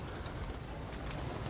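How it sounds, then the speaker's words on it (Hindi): Pigeons coo softly amid a dense wash of wing flutter and movement as they come down to feed on scattered grain, steady and close with no voices. "जब कबूतर को दाना डाला जाता है कबूतर नीचे आते हैं, जब उनकी फड़फड़ाहट है, उनका जो चहचहाना है"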